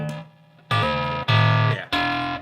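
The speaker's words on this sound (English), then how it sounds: "if we go to square wave, it should get more broken" A guitar effect pedal set to square wave modulation chops a sustained distorted guitar tone into abrupt, stuttering blocks, loud with hard on-off steps between segments.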